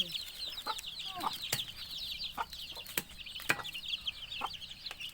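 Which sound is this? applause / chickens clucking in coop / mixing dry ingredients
chickens clucking in coop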